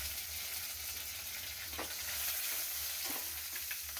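Peanuts, green chillies and curry leaves stir-fry in a pan for a leftover-chapati churma, with a steady close sizzle and scraping stirs throughout.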